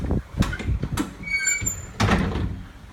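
Door of a 2003 Blue Bird GMC CV200 school bus opening, a mechanical clunk followed by squeaky sliding and a thud near the end, close and moderately loud.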